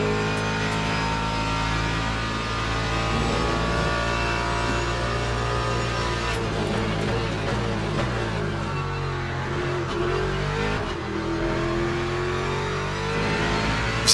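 A Ford Mustang GT3 V8 in the Le Mans Ultimate racing game revs hard and keeps a loud, continuous engine note. Repeated pitch climbs and drops come with gear shifts, and no one speaks.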